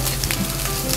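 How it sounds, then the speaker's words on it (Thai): Spring onions hit a hot pan of scrambled egg and sizzle steadily, a dense close frying hiss with faint scraping of a spatula throughout the short moment, no talking. "ก็ใส่ต้นหอมลงไปเลย"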